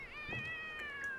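A cat meows in The Sims 3 life-simulation game: one drawn-out, tonal, wavering meow that fills the short moment alone, clear and close.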